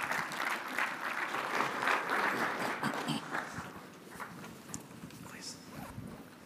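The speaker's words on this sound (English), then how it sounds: "Okay, now applause, please." Audience applause at a 5G industry panel event in Los Angeles: a moderate burst of clapping that swells early then thins out and tapers off toward the end.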